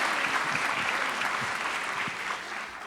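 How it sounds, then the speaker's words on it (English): A dance-event audience gives a round of applause for the judges, a dense, continuous wash of many hands clapping that stays steady for a few seconds. "give one more round of applause, everybody"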